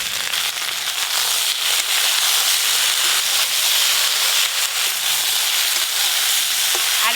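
Okra and potato frying in hot oil tempered with black cumin and turmeric, a steady dense sizzle with crackling throughout, close and loud, no talking.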